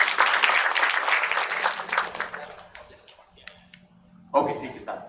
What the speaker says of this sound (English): round of applause for him once again